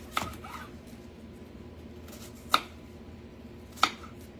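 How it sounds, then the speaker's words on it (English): A knife chops through an onion, cutting it into chunks: three sharp, separate chops on a cutting board, spaced a second or more apart and close to the mic, with a quiet room between them. "knife and cut a chunk or two off of an onion"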